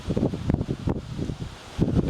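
Strong wind gusts sweep past an outdoor louvered pergola on a windy day, buffeting in irregular bursts of low rumbling noise, fairly close, with no speech.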